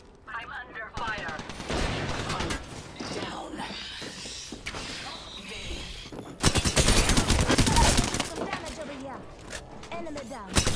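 Rapid bursts of automatic gunfire in the video game Apex Legends crackle close and loud, with a heavier volley near the end, while voices talk over much of the action.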